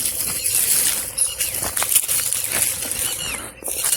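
A bird's wings flap in a quick flurry as it takes off nearby in a farm field, over a busy, noisy outdoor background.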